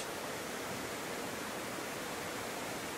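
A river waterfall rushes in a steady, even wash of white water, constant and fairly soft, with no voices or other sounds breaking through.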